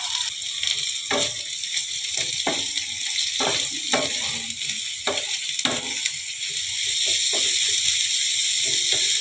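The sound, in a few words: chopped onions and green chilli frying in oil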